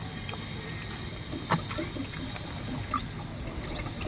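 Hydro 68 gear oil pours from a cut bottle into a New Holland tractor, heard as a steady liquid trickle with gentle gurgles, close and even, with no talk.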